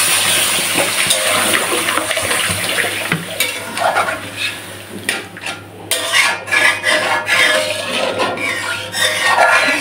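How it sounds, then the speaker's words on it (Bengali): Water poured into a pan of sautéed dal fried with cumin in oil to make gravy, a loud hissing sizzle with splashes and clinks of a utensil against the pot, close and continuous. "এবারে পানি দিয়ে দেব ঝোলের জন্য"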